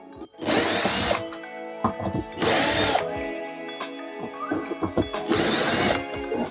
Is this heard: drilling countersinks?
yes